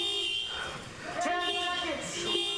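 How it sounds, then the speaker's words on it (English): A car horn honked by a trapped driver during a car-based grappling match, sounding in a few sustained blasts with brief gaps over roughly two seconds, mixed with voices and background commotion. "He's honking the horn."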